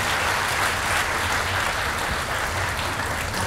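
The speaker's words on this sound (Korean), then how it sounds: "세 분을 위해서 다시 한번 큰 박수로 환영해 주시기" A crowd at a mayoral candidates' policy presentation applauds in a dense, steady wash of clapping that stays loud and even throughout.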